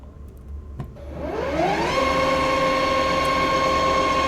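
A CNC machine spindle starts up after a few clicks, its tone rising over about a second to a steady close whine that holds to the end, with no talk.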